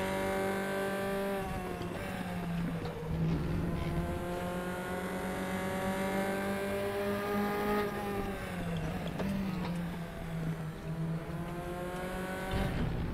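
Race car engine in the RaceRoom racing video game, one continuous loud drone whose pitch rises and dips through gear changes, with faint tire noise and no talking.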